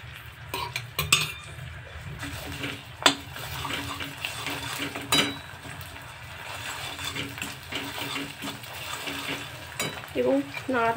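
Old ginger ground in a mixer is stirred in a pan for a homemade digestive remedy, with irregular metal scrapes and clinks of the utensil against the pan over a low background hum, close and moderately loud.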